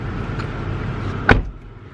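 A single car door shuts with a short, solid thump against a low ambient hum as someone gets into the car, followed by a quieter interior.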